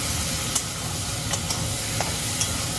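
Prawns sautéed with onions and spices in a pan give a steady, close sizzle with soft stirring scrapes and a few sharp clicks, no voices.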